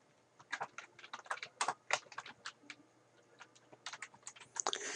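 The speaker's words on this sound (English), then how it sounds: "So I type in the term Company Graphics and I click Rename" Typing on a computer keyboard, with rapid irregular bursts of crisp key clicks in short runs and brief pauses, close and fairly quiet, ending in a slightly heavier cluster of keystrokes.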